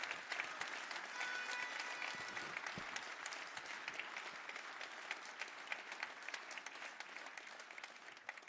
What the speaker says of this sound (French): un tonnerre d'applaudissements pour ces Iraniennes et ces Iraniens qui se battent